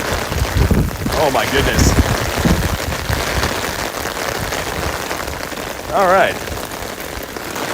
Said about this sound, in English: Dude, listen to that rain.